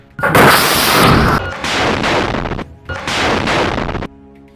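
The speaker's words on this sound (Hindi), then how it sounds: "वो उसके सामने जा रहे आईडीएफ के बुलडोजर पर ये रॉकेट फायर कर देते हैं" A rocket is fired at an IDF bulldozer in Gaza, giving loud, close blasts: a long roaring explosion followed by two more heavy bursts separated by short gaps.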